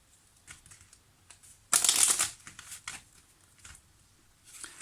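Lenormand tarot cards being shuffled, a dense papery riffling burst about half a second long, then softer scattered rustles and taps of the cards close by, with no talk.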